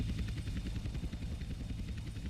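A helicopter in the game GTA San Andreas thrums with a steady rhythmic rotor chop over a low engine drone, close and fairly loud, continuing without pause.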